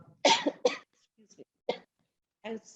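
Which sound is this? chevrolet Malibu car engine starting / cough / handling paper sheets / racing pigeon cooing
cough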